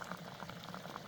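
Coolant beginning to boil in a Polaris Xplorer 250 4x4 ATV, a soft, steady bubbling and simmering hiss, close and quiet, with no voices.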